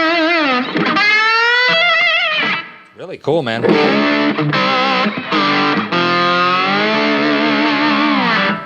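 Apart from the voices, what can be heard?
brass slide electric guitar through Peavey Bandit amp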